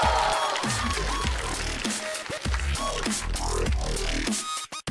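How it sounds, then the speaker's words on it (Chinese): A talk show audience claps and cheers to welcome a performer to the stage for his stand-up comedy debut, with loud, dense applause sustained throughout before it breaks off at the end. "掌声有请。"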